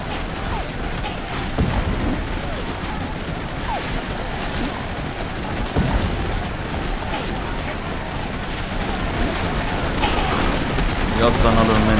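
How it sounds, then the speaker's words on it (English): Musket and artillery fire in the Civil War strategy game Take Command 2nd Manassas: a continuous rumbling wash of distant volleys and booms, with scattered sharper shots over a constant battle din. "You are firing a hell of a lot."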